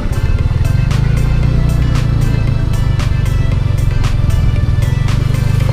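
A motorcycle engine hums steadily and loudly up close while riding along a rough dike road in Malabon City, with a constant low drone and faint ticking.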